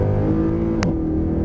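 A Mercedes-Benz C63 AMG Black Series under hard acceleration from inside, a loud sustained engine drone with rising tones and a brief shift-like break midway.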